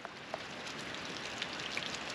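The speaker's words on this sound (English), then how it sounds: "It's raining." Steady rain falls in Ohio, a continuous even hiss with scattered brighter drop ticks throughout, no voices.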